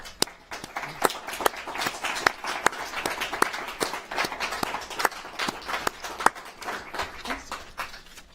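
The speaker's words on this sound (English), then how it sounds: "Audience, you may now applaud." Sparse applause from a small audience at a live candidate forum: scattered, uneven individual claps at moderate distance, fairly quiet, steady throughout.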